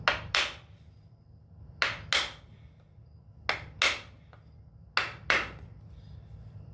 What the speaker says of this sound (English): I really don't want to go hammer to hammer, but I don't have a whole lot of options here.